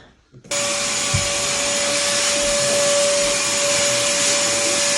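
A power sander starts abruptly and runs at a steady, loud whine with an even hiss, sanding inside a room where a parrot is kept nearby.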